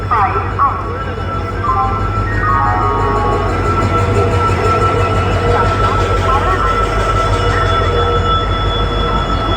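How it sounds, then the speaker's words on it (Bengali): Heavy rumbling of the Ispat Express arriving at a station, with faint squealing wheels, fills the scene continuously, with people talking in the busy background. "দেখলাম ট্রেন অলরেডি চলে এসেছে, জুনাগড় ইস্পাত এক্সপ্রেস"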